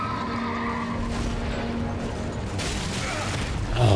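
Horse neighing in the Elden Ring video game amid combat noise, a mid-loud whinny-like cry over a dense mechanical, scraping game soundscape that swells louder near the end.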